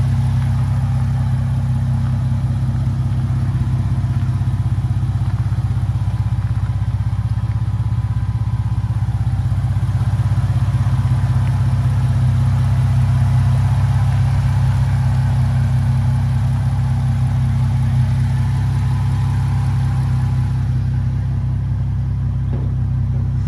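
A 1966 Ford F100 with a swapped 10R80 transmission running and driving, its engine giving a steady, loud low drone from inside the cab throughout, with no pause.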